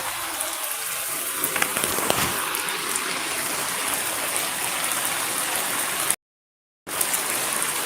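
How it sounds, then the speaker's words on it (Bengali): Heavy monsoon downpour pouring at night, a dense, steady roar of rain and running water that fills the whole clip and cuts out briefly near the end before resuming. "এত পরিমাণে বৃষ্টি যা কল্পনার মতো"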